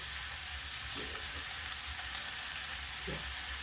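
Tomato strips sizzle as they fry in a cooking masala, a steady close hiss of frying that runs unbroken with faint stirring touches and no voices.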